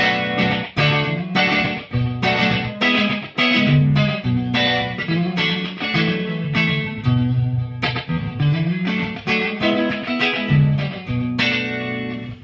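Electric guitar played through an Echoplex delay pedal with the effect on, picking out chords and single notes whose repeats trail behind each attack, loud and continuous with no talk.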